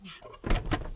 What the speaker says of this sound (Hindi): दरवाजा क्यों बंद कर रही है?